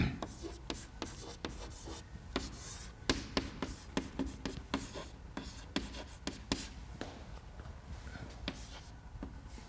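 Chalk or marker taps and scratches on a board during a mass transfer lecture, quick irregular strokes in bursts, close and faint with no clear talk over them.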